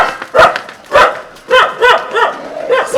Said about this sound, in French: là il y a une baston de vaches et de chiens